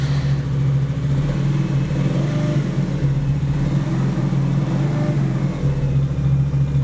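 A Motorq Torq Blizzard 50 scooter engine running steadily after starting, a loud, close, continuous two-stroke-style hum with a strong low drone and no talk.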